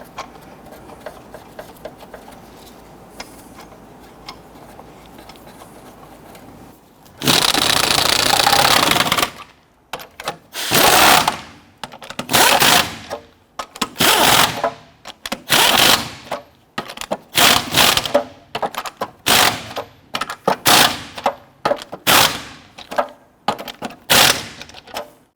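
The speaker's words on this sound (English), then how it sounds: "Once we have all of these started, we'll go ahead and snug those down." Power tool driving lug nuts onto a front wheel hub of a 2006-2014 Honda Ridgeline, heard as a long loud burst followed by a series of short, sharp, rattling bursts, close and alone.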